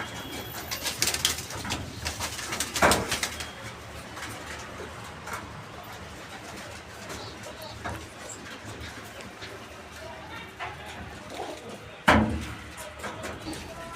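Pigeons in a home loft give soft, low cooing under a constant murmur, with occasional louder flutters and knocks from the birds moving about.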